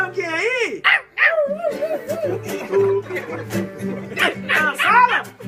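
A person's voice imitates a pitbull barking, with rough barks, yips and whiny howls mixed in among close, loud human voices.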